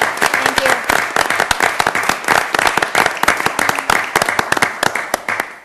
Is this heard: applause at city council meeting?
yes